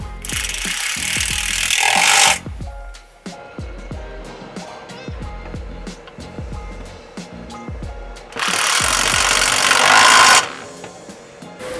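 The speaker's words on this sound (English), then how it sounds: "Now with your 13mm socket, go ahead and tighten these down." Bolts tightened with a 13mm socket on a 2018+ S550 Mustang GT exhaust install, rapid ratcheting clicks with two longer bursts of harsh buzzing, close and loud.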